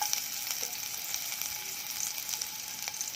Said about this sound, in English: when the pan already hot, in goes the shallot